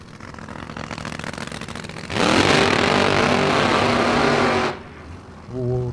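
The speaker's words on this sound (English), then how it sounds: "Ooh, nice little sounding car" Supercharged drag racing car engine at a supercharged shootout, a loud roaring burst as the car launches and accelerates past for several seconds, over crowd and track ambience, followed by a brief revving tail.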